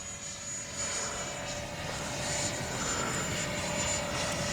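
A Freewing 90mm Eurofighter Typhoon RC jet with an electric ducted fan flies overhead, a steady whooshing whine that holds at a fairly even level and swells slightly as it passes at moderate distance.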